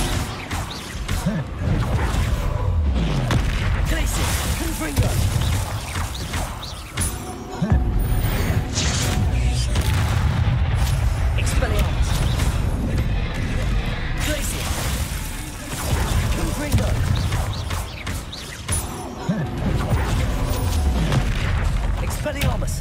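Loud bursts of magical spell blasts, booms, whooshes and crashes, from casting Confringo and other combat spells in the video game Hogwarts Legacy, firing in dense repeated volleys over a continuous battle din, with a person talking throughout.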